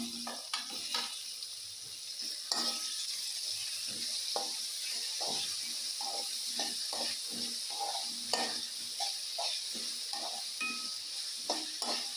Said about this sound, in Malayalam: ഇനി അതിൽ കുറച്ച് ടൊമാറ്റോ ഇട്ടാക്കി വെക്കാം